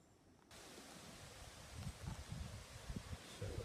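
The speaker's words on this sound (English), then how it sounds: "So the wind just come out of nowhere" Wind gusting through leaves during a stormy spell outdoors, a broad steady rustling hiss that swells louder after the first half-second with scattered low buffeting, no voices.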